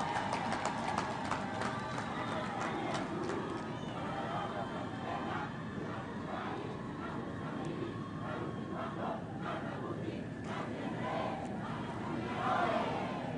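A large crowd applauds President Samia Suluhu Hassan at a World AIDS Day event in Tanzania, with sustained, dense clapping and some cheering voices mixed in, loud and continuous throughout.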